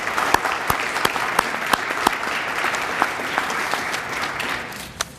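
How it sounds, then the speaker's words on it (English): An audience at a retirement tea claps for honored retirees, steady close applause throughout, with a few sharper nearby claps standing out from the dense crowd sound. "Let's also give them a big round of applause."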